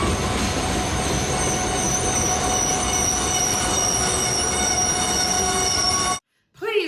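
An old train engine grinds to a stop with a loud, sustained metallic squeal of wheels and steady rumble that cuts off abruptly into near silence.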